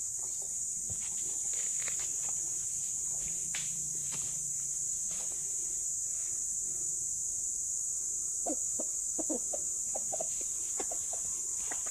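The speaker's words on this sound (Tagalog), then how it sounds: "Nagtatawag siya ng inahin." A rooster clucks to call a hen, with soft scattered clucks and a quick run of low, rapid calls near the end, over a steady high insect hum and faint rustling steps.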